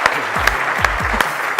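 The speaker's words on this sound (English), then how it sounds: "Let's give Emma a big round of applause." Big round of applause from a conference audience at a real estate event, dense close clapping with a few sharper claps standing out.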